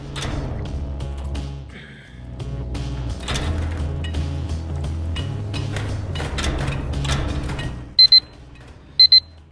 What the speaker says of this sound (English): it's obviously now where you heard the alarm go off